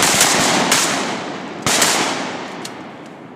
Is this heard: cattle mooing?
no